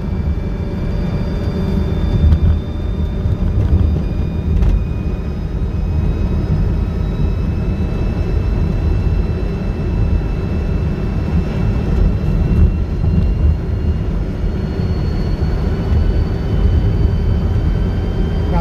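A REVA G-Wiz electric car, converted to lithium-ion, accelerates uphill with a steadily rising electric-motor whine over constant road and tyre rumble.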